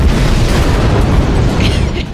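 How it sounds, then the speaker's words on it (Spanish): A bomb detonates in a bomb-defusing video game, a loud, dense roar of blast noise that fills the whole two seconds before tailing off slightly at the end. "Explota la bomba."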